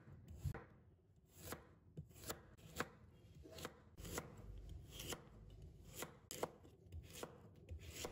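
A knife cuts a peeled carrot into thin slices on a cutting board, a quiet run of close, crisp taps in a loose rhythm with no speech.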